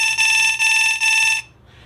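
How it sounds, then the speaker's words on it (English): An escape room laser grid alarm beeps loudly in three quick pulses with a steady high pitch, then cuts off abruptly, leaving faint background noise. "If the players break a beam while they pass through the maze, an alarm will sound."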